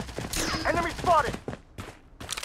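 Gunfire bursts in the shooter game Project Bloodstrike, several sharp rapid shots clustered early and a few scattered reports later, mixed with game voice callouts and effects.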